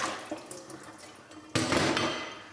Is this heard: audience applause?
no